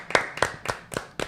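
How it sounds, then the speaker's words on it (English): Five distinct hand claps in a podcast studio, close and moderately loud with a slow, steady beat, from a small group without any crowd noise. "Round of applause for Cam Spencer."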